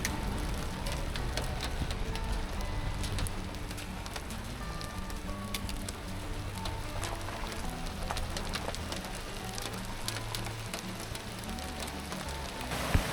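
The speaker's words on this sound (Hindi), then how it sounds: "और देखते ही देखते बारिश शुरू हो गई।" Steady, dense rain patters down continuously in a jungle in Uttarakhand, a soft hissing wash with scattered drops standing out, no voices.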